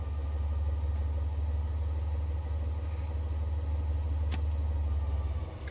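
A locomotive hauls freight cars away on the Niddertalbahn in Germany, its engine a steady, loud low rumble that holds evenly throughout with no voices.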